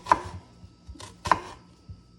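A small white onion being diced finely with a knife on a board, a few quiet, crisp chopping strikes spaced irregularly, heard up close with no talking.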